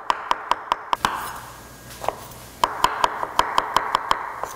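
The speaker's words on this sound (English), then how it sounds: "just chop the mushrooms up however you like" Mushrooms being chopped with a knife on a cutting board, crisp evenly spaced taps in two quick runs separated by a brief pause, close and clear with no talking.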